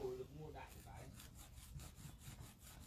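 A hand nail file rasps back and forth against acrylic nail powder in a close, steady sawing rhythm of repeated strokes, with a voice talking softly at the start.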